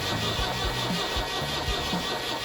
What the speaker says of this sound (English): We are going to try to start the engine.